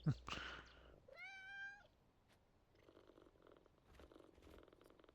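A house cat purrs and meows nearby, with a short rising meow followed by soft, low purring and faint rustling in a quiet room.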